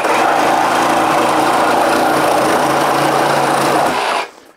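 A reciprocating saw running at its lowest speed setting cuts steadily with a loud, even buzzing drone that holds for about four seconds, then stops abruptly.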